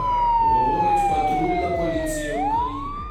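A police siren in the Ukraine GTA driving game wails loud and steady for about three seconds, its long falling tone dipping and then rising again over a constant engine hum, with no talk.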